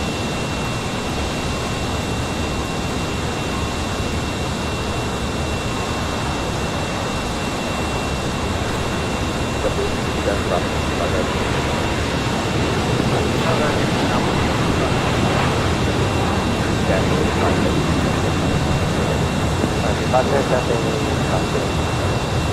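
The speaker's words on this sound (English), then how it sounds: "Next takeoff here on the south side." A jet airliner takes off from the south side of an airport. A broad, steady engine roar fills the scene and swells slightly toward the end, heard from a distance with wind-like noise.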